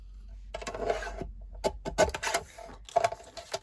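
A sheet of 8.5 by 11 inch cardstock is cut down at 4 1/4 inches on a paper trimmer, giving a few soft, close rasping strokes and scrapes in short bursts with brief pauses between.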